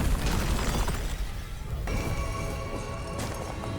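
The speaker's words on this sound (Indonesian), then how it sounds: "Di saat momen bahagia itu tiba-tiba ada sebuah ledakan." Explosion in a TV action drama, a dense crashing burst and blast over a loud, busy soundtrack, with the roar continuing under music.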